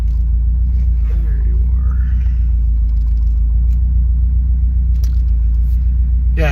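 Subaru WRX STI cruising at night with the window down, a steady low engine and road rumble filling the cabin, with a person talking over it.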